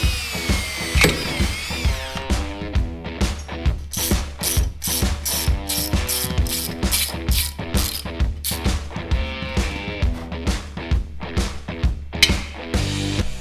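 A power tool drills and taps a bolt hole in the frame of a Honda CR500 dirt bike. It makes loud, close, rhythmic ratcheting bursts, repeated in quick regular pulses throughout, with a brief whine at the start.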